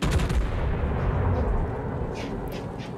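Heavy naval gunfire from a Japanese Fuso battleship in World of Warships, a loud broad rumbling boom that rolls on and slowly fades, with faint crackling later.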